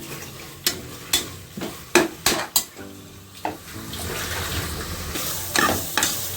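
Mint, coriander, onion and tomato sauté in a pot for mutton biryani, with a steady sizzle broken by several sharp spoon clanks and scraping stirs against the metal, close and loud with no talking.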